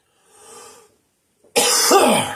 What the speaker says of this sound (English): Coming down with a cough.